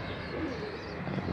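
Pigeons cooing at a rooftop loft by the sea in Aqaba, a low, soft murmur of several birds layered into a steady background without a clear single call standing out.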